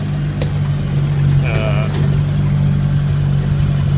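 A 1980 Chevy LUV pickup engine runs at a steady idle in two-wheel drive with the front hubs unlocked, a constant low drone close by with a brief higher whine partway through.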